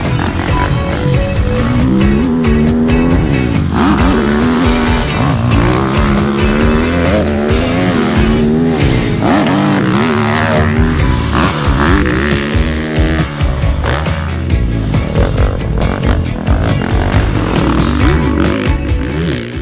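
A 2024 Beta 450 RX motocross bike at full power on a track, its engine roaring continuously and loudly, revving and dropping through gears in waves without pause.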